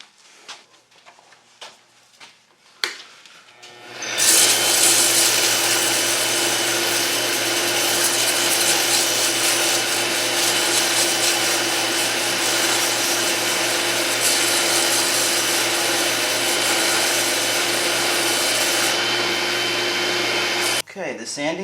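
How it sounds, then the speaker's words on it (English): Sanding a turned wooden fountain pen on a lathe makes a loud, continuous whirring hiss that holds steady for about seventeen seconds after a few initial knocks, then cuts off abruptly. "I'm going to sand it"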